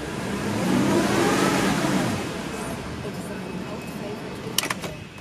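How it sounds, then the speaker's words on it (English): A Porsche Cayenne S engine revs up and holds at a steady, fairly loud idle-to-mid drone, then settles, with a brief click near the end. "It revs nicely."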